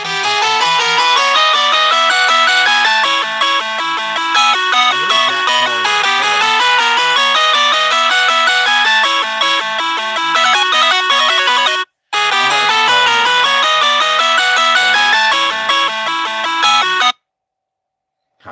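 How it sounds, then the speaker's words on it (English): Mobile phone ringtone playing loud and close: a bright, repeating electronic melody that runs continuously, breaks off briefly, resumes, then stops abruptly, with no voices over it. "What's that sound? That's my phone."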